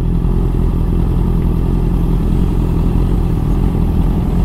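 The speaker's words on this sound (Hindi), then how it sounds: "ये रही बारी बारी बाइक्स निकल रही हैं।" Motorcycles on a road during a Sunday group ride pass one after another, a steady loud engine drone with mid-frequency rumble filling the whole stretch, no speech over it.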